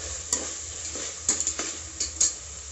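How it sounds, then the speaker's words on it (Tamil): Onions being sautéed in a pan for chickpea biryani, with a steady low sizzle under a few sharp metal scrapes and clinks of a spatula against the pan. "இப்போ இதை வந்து நல்லா வதக்கி விட்டுக்கலாம்."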